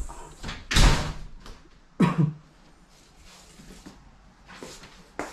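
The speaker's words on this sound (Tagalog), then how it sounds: "Bukas ang pinto." A door opens with a sharp knock and rattle, then shuts with a second thud a moment later, close and fairly loud, followed by faint room sounds and a soft bump near the end.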